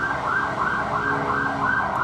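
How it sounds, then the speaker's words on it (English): An ambulance siren wails in traffic in Thailand, a loud close rising-and-falling electronic tone cycling steadily several times over a low road rumble. "these ambulances don't play out here in Thailand, bro. They be cutting through traffic"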